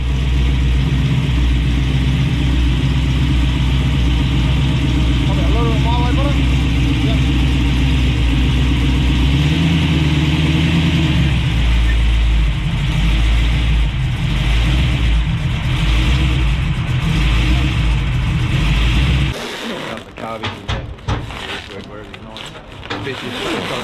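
A Ford XA coupe named Mayhem, fitted with a Chevy engine, runs with a loud, close, steady rumble that shifts and roughens near the end. A voice talks over the engine noise.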